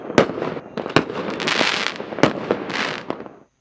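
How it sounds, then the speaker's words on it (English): Fireworks burst at a Mawlid celebration in Algeria, with several sharp loud bangs followed by crackling showers, ringing out in a rapid irregular series before fading to quiet. "Streets and mosques decorated with colorful lights and fireworks displayed as part of the celebrations."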